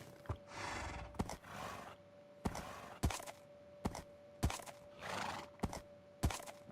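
Horse neighing and whinnying in Minecraft, in repeated drawn-out calls broken by sharp thuds and hoof knocks, fairly faint and without talk.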